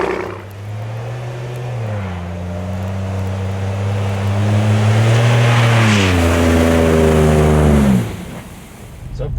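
A decatted 2019 Ford Raptor pickup truck revs loud and close, its engine and exhaust climbing in stepped pitch rises, holding a high roar, then dropping off abruptly near the end.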